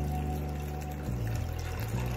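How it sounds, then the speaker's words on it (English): A drink being poured, a steady liquid stream close by over a low continuous hum, with a slight shift in pitch as the glass fills and no talk. "Let's just go on and pour some more."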